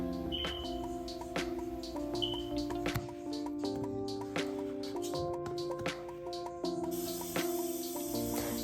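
Tap water runs steadily into a pot being filled for boiling pasta noodles for a Cajun shrimp and sausage dish, a continuous splashing stream with faint clinks and kitchen clatter throughout.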